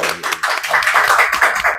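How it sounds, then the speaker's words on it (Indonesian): An audience at a campus talk session claps, a brief burst of fairly close, loud hand claps that thins out toward the end, with no one speaking. "Tepuk tangan dulu."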